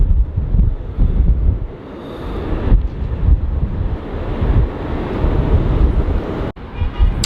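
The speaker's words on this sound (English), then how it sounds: "Holy fuck, is the wind picking up." Strong wind roars and buffets a microphone at LAX airport, with a steady loud rumble and gusts rising and falling throughout and no voices.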